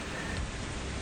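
Rainstorm in the video game Metal Gear Solid 2, heavy steady rain with a broad hiss and low rumble, fairly faint and alone for a brief moment.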